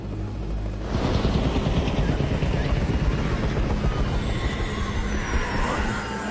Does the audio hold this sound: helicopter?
yes